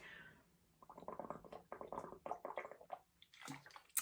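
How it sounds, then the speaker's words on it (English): Someone drinking water from a half-gallon bottle, a run of close, rhythmic gulps and swallowing sounds, ending with a brief wet gasp. "I'm going to drink some right now"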